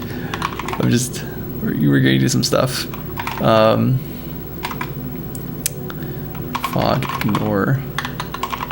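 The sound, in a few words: computer keyboard typing clicks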